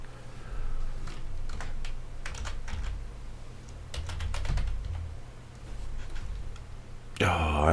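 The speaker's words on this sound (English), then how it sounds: "I'm so bad at typing today" Rapid clicking of a computer keyboard during a game-coding session, typed in irregular bursts of keystrokes at close range, with a steady low hum underneath and a brief louder burst near the end.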